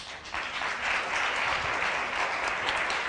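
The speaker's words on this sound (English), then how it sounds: "Oh, quit clapping" A courtroom audience claps together, steady dense applause that swells after a brief quieter start and keeps going at an even level to the end.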